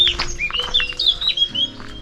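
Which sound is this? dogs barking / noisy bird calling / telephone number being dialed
noisy bird calling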